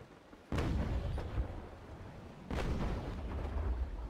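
Ship cannon broadsides boom in a naval battle game between the Constitution and the Bellona, two heavy blasts about two seconds apart, each followed by a rumbling decay.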